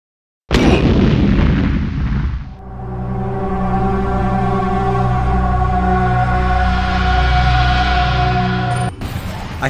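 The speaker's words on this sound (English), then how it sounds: "Suicide bomb!" A suicide bomber's blast in Resident Evil 4 on Professional difficulty erupts loudly, then rumbles into a long, droning roar that sustains for several seconds before cutting off abruptly.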